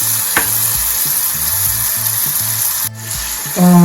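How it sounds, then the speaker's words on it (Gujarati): Green chillies sautéing with turmeric in a pan for a Gujarati radish and chilli sambharo, a loud, close, steady sizzle with a brief clink, then a sudden louder burst of frying at the end. "મરચા લીધેલા છે તે એડ કરીશું મિક્સ કરી લઈશું અને આપણા મરચાંને થોડા સાંકળવા દઈશું"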